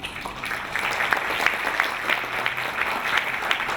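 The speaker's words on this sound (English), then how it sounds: "please give another round of a big applause to all the speakers of their speeches" A crowd at a peace event in Myanmar applauds the speakers after their speeches. Sustained clapping from many hands, with a few sharper individual claps standing out over the continuous patter, and no talk over it.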